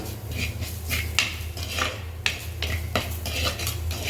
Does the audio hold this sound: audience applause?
no